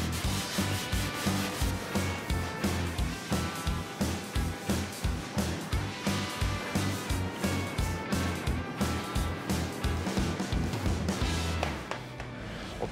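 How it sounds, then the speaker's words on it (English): A long sanding block with 180-grit paper worked by hand over primer on a Datsun 280Z body panel, rhythmic back-and-forth rasping strokes about two per second, close and steady, stopping near the end. "This step is started with 180 grit to knock down all the high spots off the primer."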